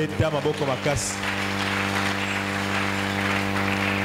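A church congregation breaks into sustained applause, a dense, even wash of clapping that begins under a speaker's voice and then carries on steadily by itself.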